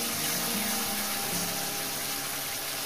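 Water from rinsing a spice bowl is poured into a pan of fried onions and spices for Bengali egg curry, giving a steady, loud, close rushing and sizzling wash with no talking.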